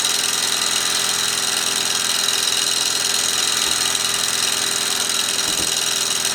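Mamod showman's special steam traction engine running a Meccano Ferris wheel, giving a steady, continuous mechanical hiss and whirr with a faint regular beat throughout, close and even in level, with no talking.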